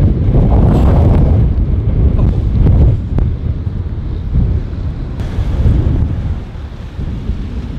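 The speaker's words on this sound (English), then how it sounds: "as you can probably tell, it's super windy" Strong wind buffets a microphone outdoors at night in Japan, giving a loud, rumbling roar that surges and eases in gusts throughout, with no voices.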